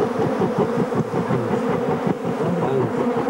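Bees swarm and buzz loudly and continuously close by while a hive is smoked out in Namibia, a dense droning hum with no pauses.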